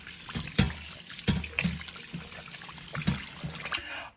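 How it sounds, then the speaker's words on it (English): Cold tap water runs into a large bowl for cleaning pork, a steady close rush with intermittent splashes and hollow knocks before the flow cuts off abruptly at the end. "Fill your bowl up with cold water, and then also a nice splash of the white vinegar."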